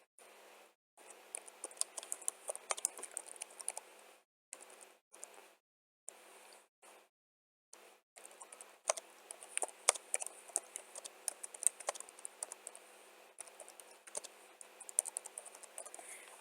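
Fast, steady clatter of keys on a computer keyboard as an ad description is typed during a Facebook campaign setup, with several short pauses; close and fairly quiet, no speech.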